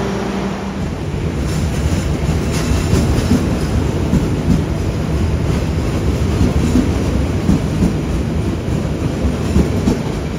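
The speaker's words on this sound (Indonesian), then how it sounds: "kereta Wijaya Kusuma dari Cilacap tujuan akhir stasiun Ketapang diberangkatkan kembali melanjutkan perjalanannya" The Wijaya Kusuma passenger train from Cilacap, bound for Ketapang, pulls out of Bangil station at night with a heavy, steady rolling rumble and faint wheel clatter, loud and close throughout.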